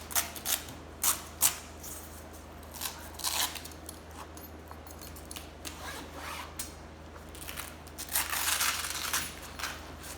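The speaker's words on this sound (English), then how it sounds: "I unzip the window" A zipper pulled open along a soft vinyl door window, heard as a few short close rasping bursts with pauses between them and a longer run toward the end, outdoors on an overcast day.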